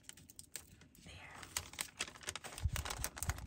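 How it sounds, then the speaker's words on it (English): Crisp crinkling and rustling of a thick plastic bag, with sharp crackles and handling noises close to the microphone, fairly steady throughout. "this is a really thick plastic bag"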